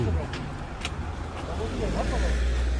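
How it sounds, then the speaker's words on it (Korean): Cars keep pulling into a tourist spot near Chotdae Rock on a weekday, a low engine rumble swelling as vehicles approach, while a voice talks over the traffic noise. "차들이 연실 들어오고 있습니다"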